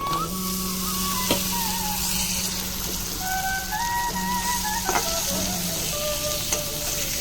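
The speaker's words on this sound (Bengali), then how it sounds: "এবার মশলাগুলো ভাজা গেছে এর মধ্যে দিয়ে দেবো কেটে রাখা আলু" Cut potatoes hit hot oil with already-fried spices in a pan, giving a steady, close, continuous sizzle and crackle with faint tonal background hum and no voices.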